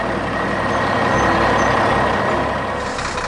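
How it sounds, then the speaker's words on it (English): A giant yellow crane truck arrives, a loud, steady engine rumble and hiss with a faint high tone running through it, close and continuous throughout. "Look, a giant yellow crane truck has arrived."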